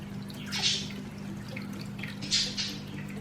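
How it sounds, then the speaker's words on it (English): Water sloshes and drips softly as it is scooped out of a small betta fish tank, with two brief splashes over a low steady hum and no voices. "take a bit of water out."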